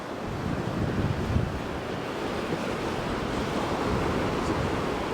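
Storm-driven surf and strong gusting wind roar steadily along the rocky Illawarra coast, a dense continuous wash of breaking waves with wind buffeting the microphone throughout, no voices.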